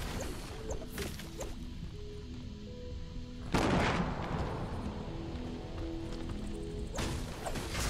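A television gets smashed apart in the video game Fortnite, with three sharp crashing hits spread a few seconds apart, each one trailing off in a ringing, debris-filled decay.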